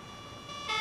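Emergency vehicle siren in the Emergency 4 video game with the Emergency City modification, a steady electronic wail that swells louder toward the end of a brief moment, with no voices.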